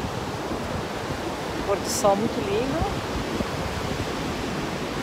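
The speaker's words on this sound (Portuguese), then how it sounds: "E as águas bem revoltas. Bastante vento também." Continuous broadband roar of rough sea waves and strong wind at Anjuna Beach, Goa, during the monsoon, heard under a woman's brief speech.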